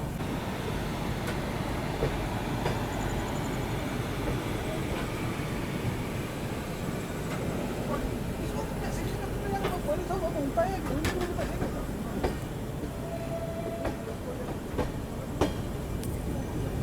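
A Rajdhani Express rolls along the tracks between Guwahati and New Delhi, giving a steady low rumble with faint wheel clatter and occasional squeals. Someone talks over the train noise.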